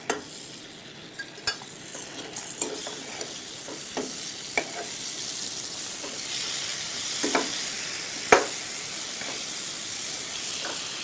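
Pear halves sauté in a pan with a sugar blend, giving a steady close sizzle and hiss with occasional sharp clicks and scrapes from stirring, no talking.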